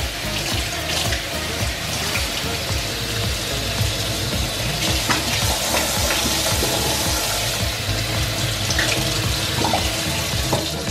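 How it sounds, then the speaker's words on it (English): Regular tap water runs steadily from a faucet while rinsing a bottle for home-brewed cider, a continuous close splashing hiss with some clatter layered over it. "We have some regular tap water."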